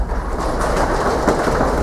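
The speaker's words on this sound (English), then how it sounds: "Drum your feet a little bit." A burlesque show audience drums their feet on the floor, a dense, steady rumble of many stamping feet that fills the room at close range with no speech over it.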